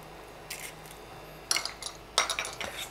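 A fork or whisk beats eggs with evaporated milk in a bowl, quick bursts of light clinking and tapping against the sides, growing busier toward the end over a quiet room.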